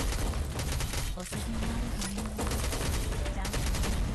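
Explosions and rapid gunfire fill a mobile shooter game in the Nikke style, a dense, loud, continuous barrage of shots and blasts with a voice talking faintly underneath.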